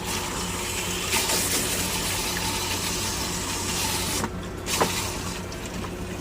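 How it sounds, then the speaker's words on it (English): Water runs steadily into an RV tank during filling and rinsing, a continuous broadband rushing flow at close range with a brief dip and splash near the end, no voices. "Just hold it like this and let the water flow into it."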